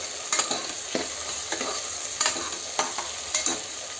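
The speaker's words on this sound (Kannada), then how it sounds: "ಟೊಮೆಟೊ ಈ ಥರ ಫ್ರೈ ಆಗಿದೆ" Tomatoes for egg biryani fry in a pan, a steady close sizzle broken by a series of sharp scraping stirs that recur about every half second to second, with no talk.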